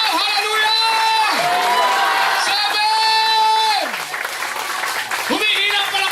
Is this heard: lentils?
no